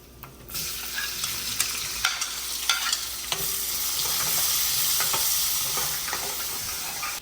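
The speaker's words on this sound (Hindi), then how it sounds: "प्याज हमारे भून चुके हैं" Chopped onions frying with cumin seeds in a pan, a continuous bright sizzle with intermittent stirring clatter up close and no voices.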